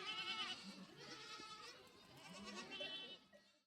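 A goat being milked by a person gives several drawn-out, quavering bleats in succession, close by, rising and falling, and then the calls fade at the end.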